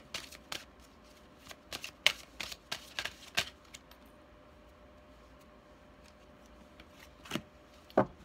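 Tarot cards are shuffled and riffled in short, crisp bursts, close to the microphone, clustered early, then sparse taps and flicks with quiet gaps.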